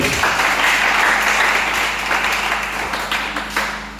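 Church congregation applauding in a dense, steady wash of clapping that fills the space, holding fairly loud throughout and easing slightly toward the end.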